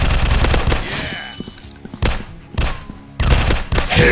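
Gunfire in an FPS robot shooting video game: loud, close bursts of rapid automatic fire with short pauses between volleys, with no talking over them.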